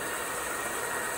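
A TOS FA4V vertical milling machine from Czechoslovakia runs its spindle at about 1400 rpm, giving a steady, broadband mechanical whir with even hiss and no breaks across the short stretch.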